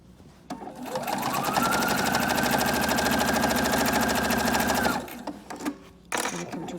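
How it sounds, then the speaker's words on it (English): A sewing machine back-stitches through a Bible cover in one steady, loud mechanical run of about four seconds, rapid needle clatter over a motor hum, then stops, leaving brief handling noises. "I'm gonna back stitch."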